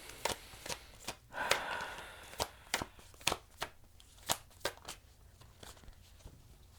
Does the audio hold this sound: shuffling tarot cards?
yes